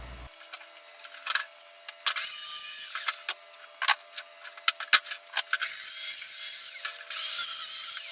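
A wooden shelf board is sanded by hand in a workshop. Rough, hissing strokes come in longer bursts, broken up by scrapes and clunks, all close and fairly loud with no voices.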